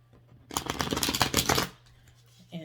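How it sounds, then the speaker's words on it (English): Tarot cards are riffle-shuffled up close in a quick burst of crisp flapping and rustling, then a short pause and a light tap as the deck settles. "I will do like I normally do, see if I can get a decent shuffle here."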